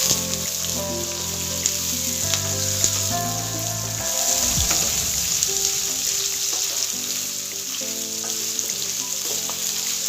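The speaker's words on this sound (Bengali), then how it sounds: "দিয়ে পেঁয়াজগুলো সামান্য ভাজবো, বেশি লাল লাল করে ভাজার কোনো দরকার নেই" Sliced onions fry lightly in a pan for restaurant-style paneer butter masala, giving a steady, close sizzle that runs the whole way through with no talking.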